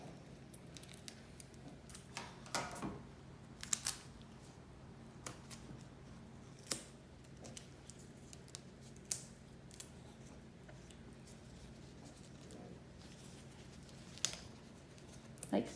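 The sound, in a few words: scissors cutting an NG tube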